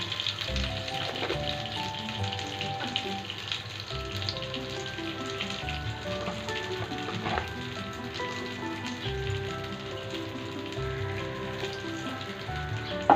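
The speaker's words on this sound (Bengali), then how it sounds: "সর্ষের তেলটা গরম হয়ে গেলে ওর মধ্যে অল্প একটু কালো জিরে দিয়ে দেবো প্রথমে" Nigella seeds sizzle in hot mustard oil in a pan, a steady close crackling hiss that runs continuously with small pops and clinks of cookware, no talking.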